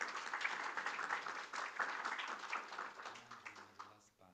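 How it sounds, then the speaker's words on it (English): A summit audience applauds its panelists with a fairly quiet, even patter of clapping that thins toward the end, where a voice begins talking. "a big round of applause for our panelists"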